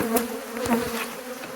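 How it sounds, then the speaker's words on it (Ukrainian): A loud, dense swarm of agitated honeybees buzzes steadily up close from an opened hive, the drone rising and falling slightly without pause. "Дуже-дуже злі бджоли."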